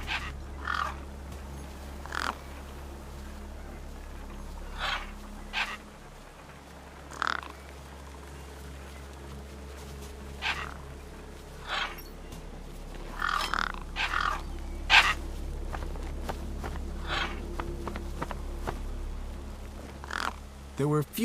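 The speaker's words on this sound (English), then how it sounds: "The gang birds were eyeing up the corpse hungrily." Crows in the video game Beyond a Steel Sky, repeated harsh caws spaced every few seconds over a low steady game ambience hum, some calls clustered together near the middle.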